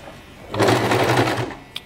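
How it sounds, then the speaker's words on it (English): A sewing machine runs steadily for about a second, stitching hair wefts onto a wig cap, loud and close, then stops with a small click. "So now I'm going to begin sewing."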